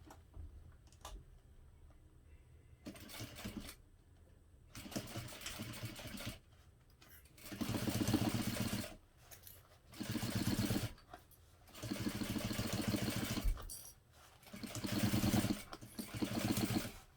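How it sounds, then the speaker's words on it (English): A sewing machine top-stitches a bag closed with an eighth-inch seam, running in several bursts of rapid mechanical whirring with brief quiet pauses between them, close and fairly soft. "So we're just going to top stitch that closed using an 1/8 of an inch seam allowance."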